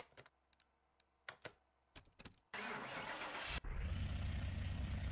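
A car starting in the video game Car Mechanic 21: a few faint clicks and clunks, then a loud cranking whir for about a second, and the engine catches into a steady, loud low idle that runs to the end.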